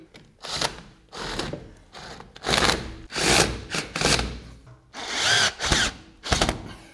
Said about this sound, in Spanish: Ahora voy a proceder a taladrar con una broca de 6 milímetros